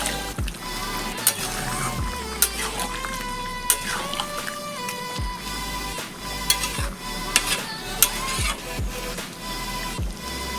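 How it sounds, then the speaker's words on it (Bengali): Green jackfruit and shrimp being stirred in a frying pan, with steady sizzling and frying under repeated scraping strokes of a spatula against the pan. "আবার একটু নেড়ে দেব।"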